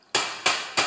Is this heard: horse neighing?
no